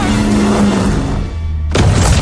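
A boat crashes into a barrier and explodes in a film scene: a dense, steady roar gives way to a sudden loud burst near the end, with no voices.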